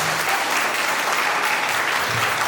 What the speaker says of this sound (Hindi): जोरदार तालियां बजाना आप लोगों को।